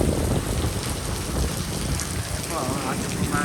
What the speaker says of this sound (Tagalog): Yung pagpaksak niya ng ulan.